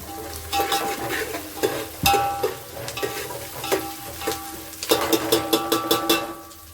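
Onions fry and sizzle in a pan for fish curry, turning brownish, with a spoon stirring and scraping in repeated close strokes over a continuous sizzle.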